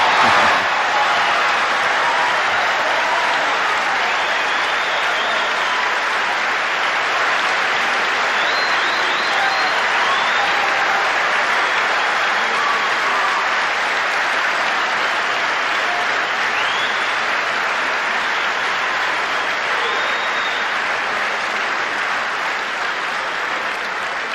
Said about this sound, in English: I can see from your applause